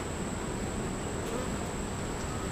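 Honeybees humming around an open hive during a brood inspection, a steady soft drone heard close and continuous with no talk.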